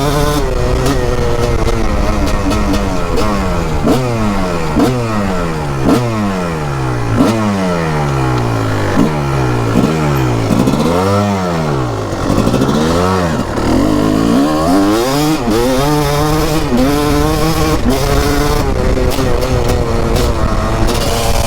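A 2004 Kawasaki KX 250 two-stroke dirt bike engine, loud and close, revved repeatedly through sweeping rises and falls in pitch, with steady high-rev stretches in between, alone with no talk.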